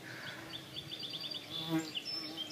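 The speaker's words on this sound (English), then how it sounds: "Can't tell if that's a honeybee or a yellow jacket." A bee buzzes steadily close by, a continuous wavering drone with no talking over it.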